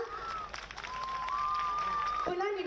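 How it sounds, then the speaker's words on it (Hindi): Applause at a government ceremony in Lucknow honouring martyrs' families, crowd clapping spread under a sustained tonal line like a microphone or music hum, fairly quiet and distant, cut off with a shift near the end. "आप सभी से जोरदार तालियों की अपेक्षा।"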